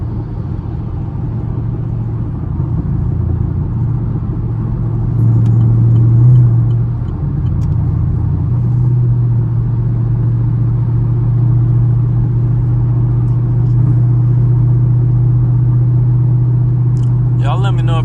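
A Chevrolet Camaro SS drives with a steady, close low engine rumble and a brief rise in revs early on, holding a constant drone afterward.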